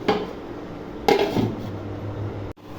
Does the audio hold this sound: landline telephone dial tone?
no